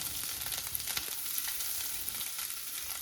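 Chilli flakes and grated coconut frying together in a pan make a dense, continuous crackling sizzle, close and fairly loud, with faint stirring scrapes running underneath and no talk.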